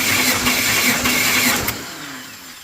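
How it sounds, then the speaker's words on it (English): A 1994 Chevy Suburban K1500's 5.7 TBI V8 cranks over on the starter during a compression check, a steady rhythmic churning close by that runs for a couple of seconds and then cuts off, with no talking. "So we're about to crank on it."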